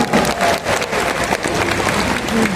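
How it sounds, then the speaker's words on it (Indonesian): A seated audience claps steadily for a sales promotion at a company event, a dense, continuous patter of many hands held at an even level for its short duration, with a faint murmur of crowd noise beneath. "Aplaus dulu dong buat promo ini"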